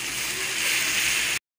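Water poured into a pan of mushroom dosa masala, a brief splashing and sizzling rush that stops abruptly after about a second and a half.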